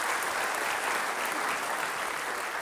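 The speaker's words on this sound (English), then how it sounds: "So let's give them a big round of applause for their incredible work." Steady audience applause at a mayor's development forum in Long Beach, honoring partners behind new supportive housing for veterans; dense, even clapping fills the whole stretch at moderate volume with no voices on top.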